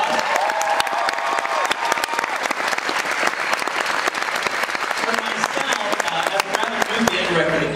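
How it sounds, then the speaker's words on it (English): Loud, vigorous applause with cheers from an audience at a high school jazz festival, honoring a music teacher. It holds strong throughout, with excited voices mixed in. "Let's give that man a round of applause."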